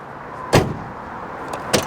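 The barn-door style split tailgate on a Ram Rebel Havoc Edition pickup is pushed shut, giving two solid, close thuds about a second apart over steady outdoor background noise.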